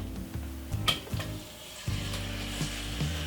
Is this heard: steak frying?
yes